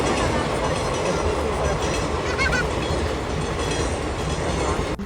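A train passes near a railway crossing around Karaikudi in Chettinad, a loud, steady, close rumble of wheels and wagons with clattering throughout.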